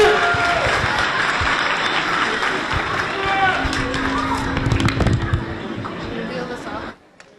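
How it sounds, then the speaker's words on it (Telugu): Audience clapping fills the room at a live stage event, a dense, steady applause that continues for about seven seconds with crowd noise mixed in, then cuts off abruptly. "మళ్ళీ ఇంకోసారి చప్పట్లు కొట్టండి."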